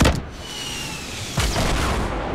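Gunfire in the video game Fortnite: a sharp opening shot, then a sustained noisy wash and a second burst about halfway through, loud and without talk.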